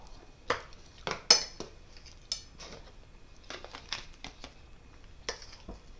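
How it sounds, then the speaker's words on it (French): Soft clinks and scrapes of a spoon against bowls and molds as homemade Boursin-style cheese is spooned into faisselle draining molds, a handful of sharp irregular taps over quiet background. "je vais maintenant le déposer dans les moules faisselle"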